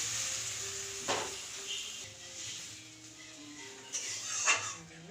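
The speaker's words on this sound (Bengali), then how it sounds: "মশলাগুলো দিয়ে ভালো করে কষবো যখন দেখব তেলটা ছেড়ে দিয়েছে" Spice paste sizzles and fries in hot oil in a pan while tangra fish curry is being cooked, a soft steady hiss with a few brief scraping stirs and light utensil clinks, close and fairly quiet.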